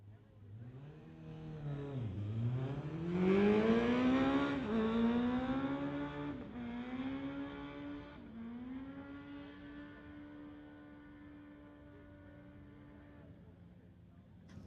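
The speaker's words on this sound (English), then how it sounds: "Here is Ken Christensen on the 2012 Kawasaki." 2012 Kawasaki motorcycle on a drag strip launching and accelerating hard through rising gear pulls, a loud engine whine that fades into the distance.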